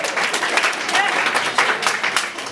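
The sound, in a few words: conference audience applause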